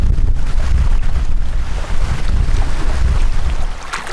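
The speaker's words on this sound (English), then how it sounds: "we got a stiff headwind" Stiff headwind on a wild Canadian river during a canoe trip, a loud continuous roar and buffeting against the microphone, with low gusty rumbles and no talk.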